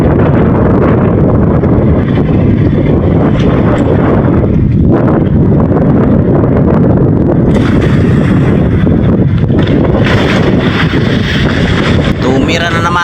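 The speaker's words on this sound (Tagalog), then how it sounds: "mas tumindi pa ang hangin guys" Loud, roaring southwest monsoon wind by the sea buffets the microphone continuously, a heavy rumbling gust that swells and never lets up.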